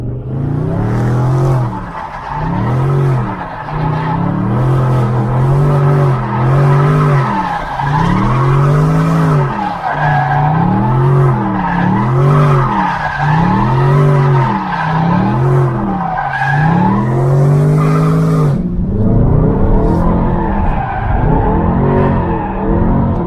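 A supercharged BMW 645 fitted with an ESS G1 charger does a burnout, its engine revving hard in repeated surges over continuous loud tire squeal and skidding until the revs drop near the end.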